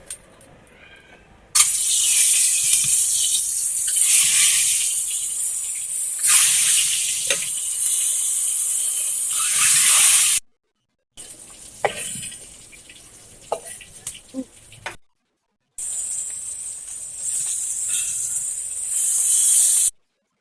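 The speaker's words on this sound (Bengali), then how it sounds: "আমি আসলে ডিম দিয়ে এখন ভাইজে নিব।" Boiled eggs fry in hot oil in a pan, giving a loud, bright sizzle that swells and fades in bursts, broken by two brief silent cuts, with occasional stirring clinks.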